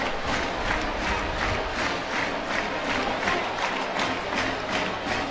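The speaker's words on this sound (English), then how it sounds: "And this crowd appreciative." Stadium crowd at a college football spring game, a steady roar of cheering voices that holds for several seconds with rhythmic swells, broad and dense rather than close.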